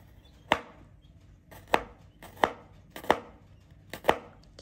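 A knife slices through garlic on a cutting board for a Taiwanese-style smashed cucumber pickle, giving five sharp, close chops spaced about two-thirds of a second apart, with no voices.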